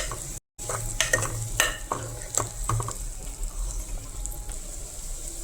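Onions fry in a pan until pink, a soft steady sizzle broken by close scraping and clinking strokes of a spoon stirring them.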